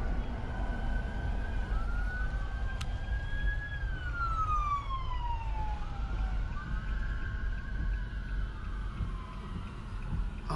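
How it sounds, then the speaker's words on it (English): Police sirens wail in highway traffic, slow rising and falling tones somewhat distant over a constant rumble of road and engine noise. "There's all kinds of police cars up here in traffic."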